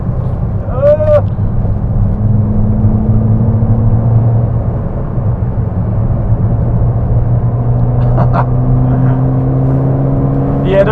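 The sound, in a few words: engine of a cheap £1,000 car on a race track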